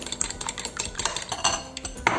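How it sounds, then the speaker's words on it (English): An egg is beaten with a whisk in a bowl, giving quick, steady clinks and taps at close range over faint background construction noise. "So I'm going to whisk my egg"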